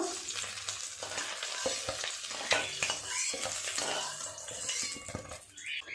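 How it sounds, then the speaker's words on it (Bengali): Eggs fry in oil for egg chilli, making a steady close sizzle broken by repeated scraping and clinking as the pieces are turned and lifted out. "এই ডিমগুলো ভাজা হয়ে গেছে, তুলে নেব"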